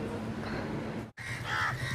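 Crows caw in a run of harsh calls, moderately close, broken by a brief silent gap and then a louder burst of cawing against steady outdoor background noise.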